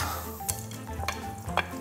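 Pork cutlet balls fry in oil over medium-low heat with a continuous close, crackling sizzle, broken by a few brief scraping stirs in the pan.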